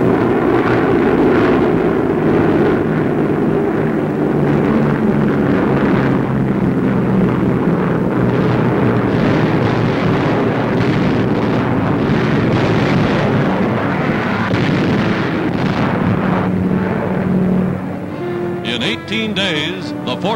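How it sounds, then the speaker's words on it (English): Allied bombers over the Mediterranean pounding Italian island strongholds in a WWII air raid: a loud continuous rumble of engines and blasts, dense and unbroken for most of the clip, easing near the end. "Allied bombers swarm across the Mediterranean, softening Italian island strongholds with overwhelming air power"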